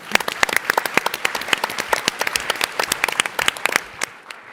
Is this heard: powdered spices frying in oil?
no